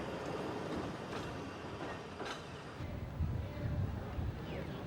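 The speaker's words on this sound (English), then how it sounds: "And there goes the first of the down trains for the day, safely on its way back to Cairns." A passenger train departing Kuranda, Queensland, bound for Cairns, rumbles along on the rails, low steady rolling noise with faint clicks and squeals, moderately close and gradually pulling away.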